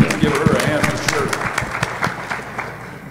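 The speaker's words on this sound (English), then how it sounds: "I think we should give her a round of applause." A meeting audience of real estate association members applauds a woman, scattered claps crackling close and steady under a loud room wash for about three seconds.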